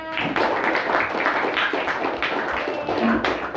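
A classroom of pupils clapping together at the end of a lesson, a steady dense patter of hands mixed with children's voices throughout.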